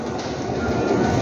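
A Seoul subway train rushes past at close range, a steady loud rumble and rolling rail noise filling the whole moment without any voices.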